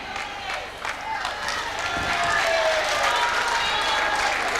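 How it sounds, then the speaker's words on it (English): Spectators at a 1985 netball final give a steady wash of applause and murmuring crowd noise that swells slightly and holds, heard from across an indoor court. "Crowd agreeing with the umpire's decision"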